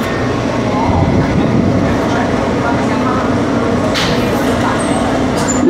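An R160 NYC subway car on the F line to Coney Island, Stillwell Avenue rolls along with a continuous low rumble and rattling track noise, loud and close, while a recorded announcement voice speaks over it.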